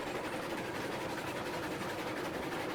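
Steady locomotive chugging and rumble in the Railroads Online train game, a continuous dense mechanical drone with rolling rail noise, moderately loud and unbroken, with no one talking.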